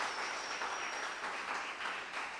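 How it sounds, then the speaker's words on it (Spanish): Church congregation at a Spanish-language service applauds, a dense, steady patter of many hands clapping at moderate distance, continuous throughout with no voices. "Le da su mejor aplauso a Dios, hermano"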